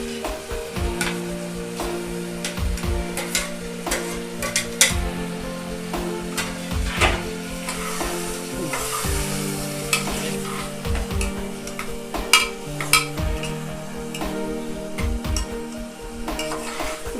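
Chopped onions fry in a pan for chicken curry, with a steady loud sizzle under repeated scraping and clattering stirs against the pot throughout, with no talking.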